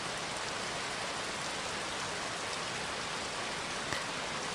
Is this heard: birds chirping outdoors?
no